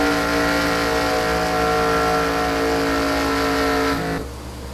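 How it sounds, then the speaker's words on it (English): A Formula 1 race car engine in a racing video game holds a loud, steady high-revving drone with layered harmonics for about four seconds, then drops away abruptly. "I heard the engine slow down"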